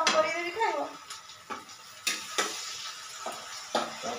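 Egg bhujia, Indian-style scrambled eggs, cooks in a pan at home late at night, with a soft sizzle and occasional sharp clinks of stirring against the metal. Someone talks at the start.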